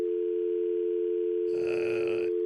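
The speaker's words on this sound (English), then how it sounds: "All right, Andrew, I'm going to dial it up for you here." A steady telephone dial tone hums alone while calling a store, then a short burst of other noise cuts in near the end.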